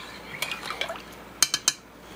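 A spoon stirs a thick bean and lentil soup in a pot, with a few soft scraping sounds followed by three sharp, close clinks of metal against the pot's side.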